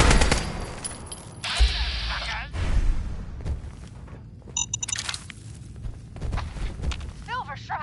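Gunfire in a dramatic action scene, a burst of loud, close shots and rapid fusillade early on, followed by scattered impacts and clatter, with voices heard between them.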